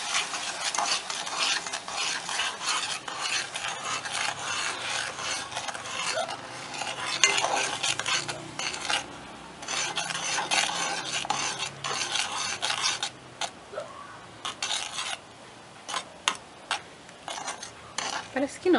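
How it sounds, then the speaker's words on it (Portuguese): A spoon stirs a milk and margarine mixture in a pot for a carrot cake, steady scraping and swishing against the metal with a few knocks, continuing until it thickens, no voices. "Agora é só mexer"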